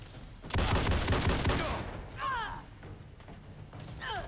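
Rapid-fire bursts from an AA12 prototype assault shotgun in Fallout 4, a dense loud volley lasting over a second, followed by quieter gameplay effects and brief whooshing sweeps.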